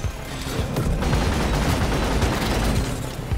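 Automatic-fire Subata pistol in Deep Rock Galactic on a solo Hazard 5 mission: a dense, continuous burst of rapid gunshots, loud and steady for the whole stretch, amid game battle noise.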